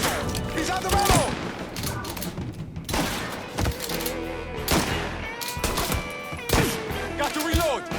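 Dense battle gunfire from the video game Mafia III, with rapid overlapping shots and heavy thumps bursting close and loud across the whole stretch, barely pausing between volleys.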